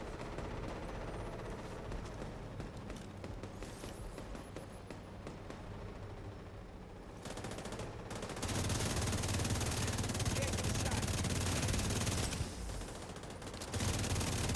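Sustained automatic gunfire in the shooter The Division 2, a dense continuous rattle of shots that grows louder and heavier midway, with no talking.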